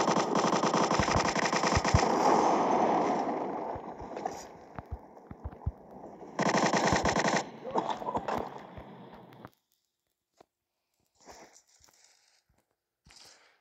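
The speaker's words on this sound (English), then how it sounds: "Let's play with the MG42." MG42 machine gun fire in the World War Heroes game, long loud bursts of rapid shots with gaps between them, then a few isolated thuds as it fades toward silence.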